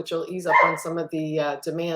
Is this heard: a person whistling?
no